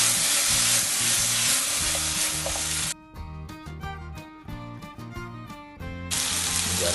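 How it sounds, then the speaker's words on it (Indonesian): Stir-fried eggplant with chicken gizzards and spring onions is stirred in a hot pan, giving a steady, close sizzle that briefly thins out mid-way before surging back. Soft tonal sounds run underneath, and no one speaks. "kita aduk kembali"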